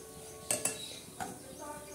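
Semolina roasting in a pan while a spatula stirs it, a few quick metallic scrapes and clinks against the pan over a faint background, quiet and close.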